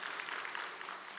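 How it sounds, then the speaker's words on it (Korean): Dense applause from a church congregation at a Wednesday prayer meeting, continuous and fairly loud throughout the short stretch. "우리 감사와 영광의 박수 올려드리겠습니다"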